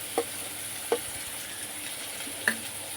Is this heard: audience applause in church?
no